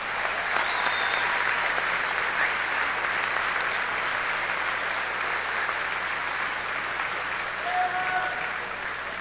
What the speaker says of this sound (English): So we'll give them a great round of applause.